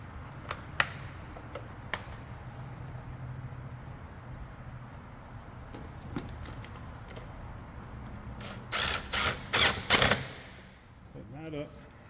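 A hand ratchet tightens a hold-down in a car engine bay, starting with scattered faint ticks and clicks, then a close burst of four or five quick, loud ratcheting pulls near the end.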